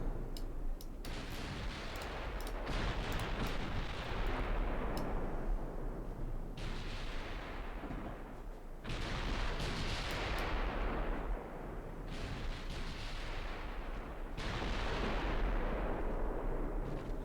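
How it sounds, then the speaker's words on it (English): Gunfire as guns are sighted, heavy booming bursts that repeat in long rumbling waves, loud and dense throughout with no talk. "Try and get those guns sighted."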